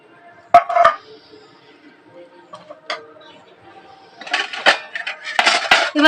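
Nanpuri dough is mixed and kneaded with yogurt in a bowl. Sparse clinks and knocks against the bowl come first, then denser soft squelching and rubbing near the end, all close and fairly quiet.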